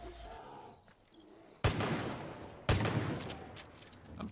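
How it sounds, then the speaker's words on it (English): Far Cry 5 gunfire, two sharp loud bursts of shooting a second apart, each trailing into noisy decay over quiet game ambience. "I'm literally shredding him with bullets"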